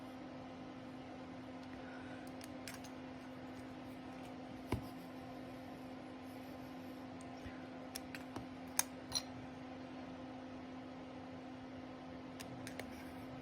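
Scissors trim small polymer clay letters with faint, sparse snips and clicks over a steady low room hum, with a few slightly sharper cuts near the end.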